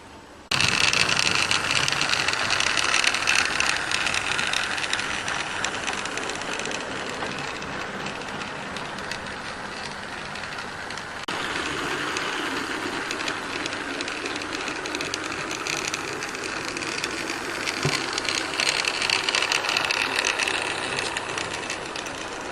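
A small steam locomotive runs at a Great Western Railway festival, giving a steady, loud mechanical chuffing and rattling rail noise that carries on continuously with a brief dip midway.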